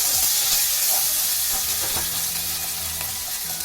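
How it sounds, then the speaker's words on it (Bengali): Ginger paste sautéing in a pan for a vegetarian cauliflower curry, giving a steady, close sizzle and crackle of frying that runs the whole time with no voices. "1 টেবিল চামচ আদা বাটা দিয়ে ভালো করে কষে নিচ্ছি।"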